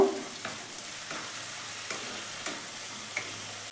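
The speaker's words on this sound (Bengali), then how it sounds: "পরের ভেতরে চিনিটা দিলাম, তার সাথে নুনটাও দিয়ে দিলাম। দিয়ে এটাকেও একটু কষে নেব।" Eggplant masala stir-fried in a pan with sugar and salt, for a Bengali malai begun: a soft, steady sizzle with a spatula scraping and stirring every half second or so, quiet and close, with no voices.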